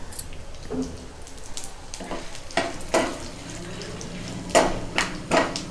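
Mustard, cumin and coriander seeds fry in a pan for a winter spice powder, with a steady soft sizzle broken by several sharp crackling pops and stirring scrapes, close and moderately loud, with no talking.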